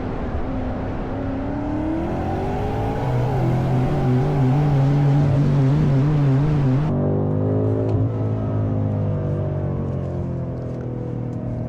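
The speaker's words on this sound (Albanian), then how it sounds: "Kjo është matë me dragi 0-100 me 2 veta në makinë për 3 sekonda" A BMW M5 F90 sedan launches from 0 to 100 km/h with two people aboard, its engine roaring and climbing steadily in pitch, then pausing for crisp upshifts before pulling on loudly and steadily.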